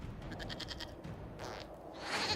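A goat bleats in Dragon Age Inquisition, with a short run of wavering nasal bleats, a further bleat after a pause and a harsher cry at the end, all fairly faint over a low ambient bed.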